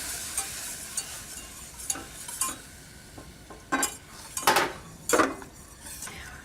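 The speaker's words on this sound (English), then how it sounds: "I'm gonna whisk in my milk." Milk being whisked into a flour and butter roux in a pot, quiet low bubbling under intermittent metallic whisk scrapes and clinks against the pan, a few louder strokes, no voices.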